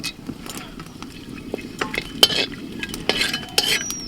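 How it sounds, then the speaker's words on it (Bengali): Bay leaves, cardamom, cinnamon and cloves frying in hot mustard oil in a wok, a soft continuous sizzle with scattered clinks and scraping stirs of a utensil against the pan. "কড়াইতে সর্ষের তেল দিয়েছি দুটো তেজপাতা দিচ্ছি এলাচ দারচিনি লবঙ্গ"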